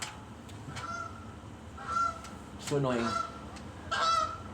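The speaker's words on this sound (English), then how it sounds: "geese." Geese honking in several loud, nasal calls spaced a second or so apart, fairly close, with someone speaking briefly between them.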